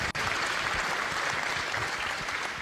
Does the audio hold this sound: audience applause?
yes